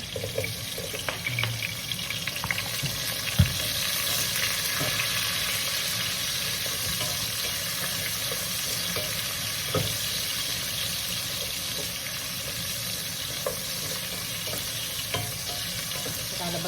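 Onions sautéing in a hot pan for sinigang sa miso with bangus, giving a steady, close, dense sizzle that runs throughout with a few small clinks, and no talking.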